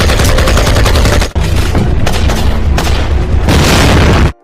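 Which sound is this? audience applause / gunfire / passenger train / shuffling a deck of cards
gunfire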